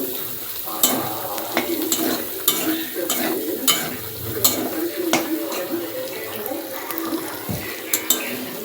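Potato and egg curry masala being stirred and fried in a pan, with a close steady sizzle broken by regular sharp scrapes and clinks of the spoon against the pan.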